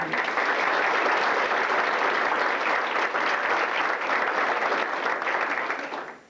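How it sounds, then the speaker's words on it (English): A roomful of people gives Ted a round of applause: steady, thick clapping held at an even level for several seconds, then fading quickly at the end. "a little round of applause for Ted"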